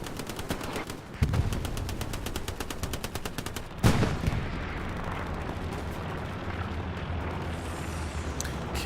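MP40 submachine gun fire in the Hell Let Loose video game, a loud rapid burst of automatic shots, then a heavy boom and a continuing rumble of distant battle.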